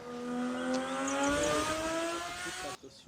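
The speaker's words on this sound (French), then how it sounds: "Le bolide, la Porsche 911." A Porsche 911 sports car engine runs loud and close, its tone climbing steadily in a sustained rev before cutting off abruptly near the end.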